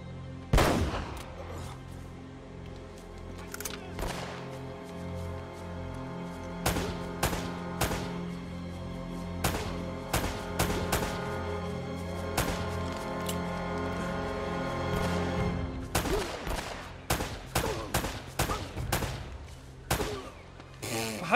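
Gunfire from the video game Uncharted: Drake's Fortune during a firefight against an armored enemy, sharp repeated shots in irregular bursts and clusters, loud and close, over a low sustained background tone.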